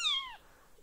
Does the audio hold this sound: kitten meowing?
yes